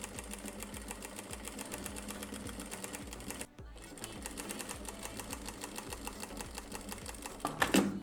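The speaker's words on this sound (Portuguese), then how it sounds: "dobro e passo a costura" A sewing machine stitches a jacket collar during upcycling of an old jacket, running in a steady rapid rhythm with a brief pause midway and faint clicks near the end.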